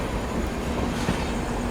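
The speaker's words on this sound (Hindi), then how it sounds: "शालदा नई दिल्ली राजधानी एक्सप्रेस डिपार्चर ले चुकी है पंडित दीनदयाल उपाध्याय से।" The 12302 New Delhi–Howrah Rajdhani Express is underway after leaving Pandit Deen Dayal Upadhyaya station, heard from inside a First AC coach as a steady, even rumble of wheels on rail with no speech over it.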